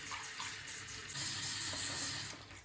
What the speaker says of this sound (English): I go ahead and just turn the hot water on and let her start filling it up.